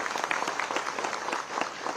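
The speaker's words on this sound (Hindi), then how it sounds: "थोड़ी तेज तालियां।" Applause from an audience at a sanitation awards ceremony in Dehradun, cheering village award winners; dense, continuous clapping with some distinct nearby claps standing out, no talking.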